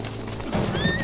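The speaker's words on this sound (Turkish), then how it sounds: "Atlar." Horses in a historical drama scene stir close by, with a short neigh and a couple of muffled hoof thuds over a dense background rumble, all within about a second.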